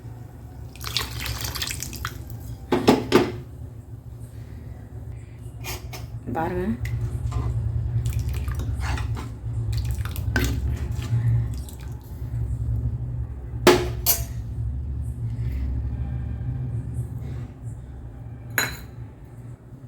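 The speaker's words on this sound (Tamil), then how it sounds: "குக்கரை கழுவி தண்ணி ஊற்றிடுறேன்." A pressure cooker is washed and filled at a kitchen sink: running tap water, drips and metallic clinks and clatters of the pot, with someone speaking intermittently.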